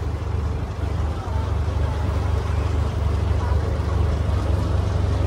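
A launch boat's engine drones steadily while crossing the Godavari river near Narsapur, a constant low rumble with wash and background noise that holds unbroken for several seconds.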